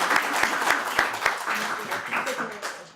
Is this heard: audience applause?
yes